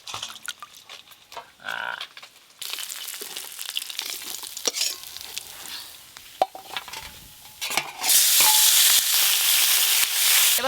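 Small fish frying in hot oil in a home kitchen, with sizzling and stirring sounds, brief clatters, and a loud bright burst of sizzle near the end.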